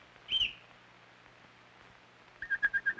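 Young robins call in short whistled chirps: one thin call near the start, then after a pause a quick series of four or five rising peeps, faint over a quiet background hum.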